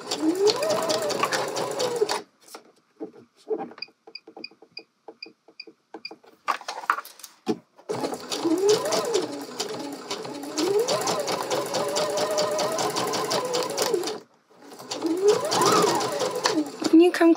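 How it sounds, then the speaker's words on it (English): Sewing machine stitching bias tape around a garment armhole, running in long steady bursts with a couple of short pauses, close and clear, with a voice talking over parts of it. "go ahead and sew in the round along that first fold"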